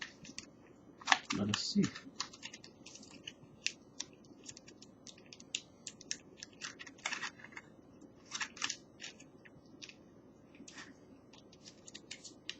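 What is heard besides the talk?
tearing open the box of Seven Oceans emergency rations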